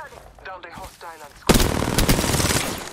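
Gunfire in the Apex Legends video game: rapid, dense bursts of shots that start abruptly and keep going, loud and close, following brief talk between players.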